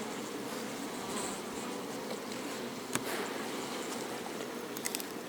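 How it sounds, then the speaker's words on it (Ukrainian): Steady, dense insect buzzing close by, like many bees humming together, with a couple of faint clicks and taps over the drone. "Бджілка переходить."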